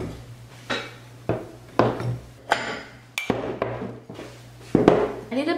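Ceramic plates clink and clatter in a series of sharp, close knocks, handled one after another with brief pauses between.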